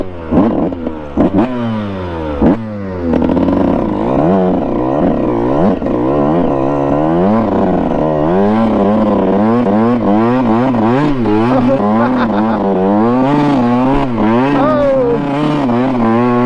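A vehicle's engine revs hard and continuously as its tires spin in sand on an abandoned golf course, a rising and falling strained whine that stays loud and near throughout, with a brief exclamation at the start.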